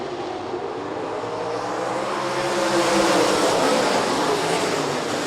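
MSTS 360 sprint cars roar past in a heat race at Rapid Speedway, a dense sustained engine drone that swells to a peak midway and then eases off slightly.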